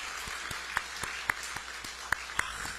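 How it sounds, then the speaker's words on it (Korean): A church congregation gives a round of encouraging applause for theology students, a steady, fairly distant wash of many hands with a few sharper claps standing out near the front. "한 번 더 격려 박수 한번 보내주시기 바랍니다."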